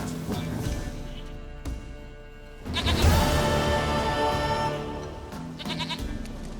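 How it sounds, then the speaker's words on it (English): A goat in The Witcher 3 gives long, wavering bleats, first mid-level, then a louder close cry, with game ambience underneath and no speech. "Goat of mine, dearest,"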